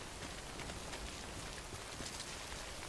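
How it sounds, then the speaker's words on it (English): Steady rain in the video game Death Stranding, a dense, even hiss of drops on surfaces, continuous and uniform with no other sounds. "Wait out the rain over there."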